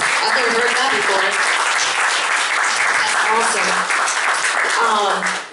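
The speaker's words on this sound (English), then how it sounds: "Give them a round of applause." A round of applause from an audience at a Young Republicans meeting, loud and close, with clapping running continuously and a voice speaking briefly over it.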